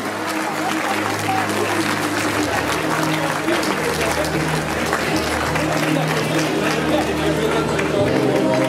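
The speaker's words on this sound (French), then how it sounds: "applaudissements pour Lucky Luke" An audience at a prize-giving ceremony applauds steadily for a boy dressed as Lucky Luke, a dense, sustained clapping that carries through the whole stretch, with some crowd murmur and a low hum beneath.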